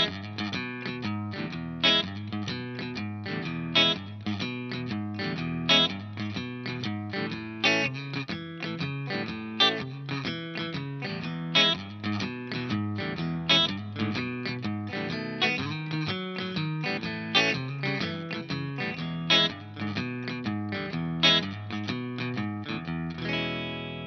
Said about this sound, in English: We're going to start with the first guitar part, which sounds like this.